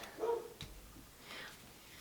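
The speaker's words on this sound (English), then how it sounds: "Sorry about the dogs." A couple of short dog barks or yips, somewhat distant and fairly faint, with quiet room background between them.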